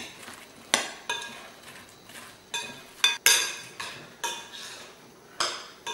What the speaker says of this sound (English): we are going to go ahead and add our apples to this. We're just going to fold it in